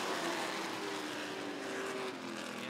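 Race cars at Rockford Speedway roaring on a restart in a Sportsman feature, a distant, blended engine drone with a rising pitch as the field accelerates, steady throughout with no talk.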